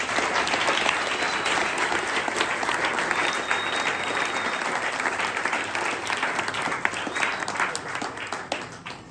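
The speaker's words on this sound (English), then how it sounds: "A round of applause for all of our talks." Sustained, dense audience applause fills a pub talk on politics in Fremantle, a steady wash of many hands clapping at close range from start to finish, with little talk.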